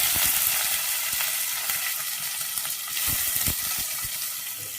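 Chopped onions and curry leaves crackle steadily in hot oil in a pan for a Tamil dish, giving a loud continuous sizzle with scattered pops and faint stirring underneath, with no voices.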